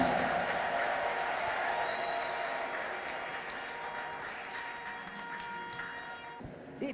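A church congregation applauds steadily and loudly throughout, a dense wash of clapping that thins slightly toward the end, with no clear voices on top.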